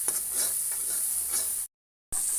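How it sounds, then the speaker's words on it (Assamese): Masala paste with red chili powder sizzles steadily in a pan over a low flame while being stirred, a close, continuous crackle with soft scraping, cut by a brief silent gap near the end. "এতিয়া এইখিনি কেঁচা গোন্ধ নোযোৱালৈকে মই ভাজিয়ে থাকিম ল' ফ্লেমত"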